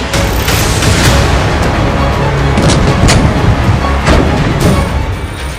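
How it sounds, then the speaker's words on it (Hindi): Live-fire military exercise by China around Taiwan, with artillery fire. Loud, dense booming blasts come in a continuous barrage, with several sharper reports standing out above a rumbling wash. "पेलोसी के दौरे पर विरोध दर्ज करवाने के लिए चीन ने ताइवान के 6 तरफ लाइव फायर एक्सरसाइज शुरू कर दी है।"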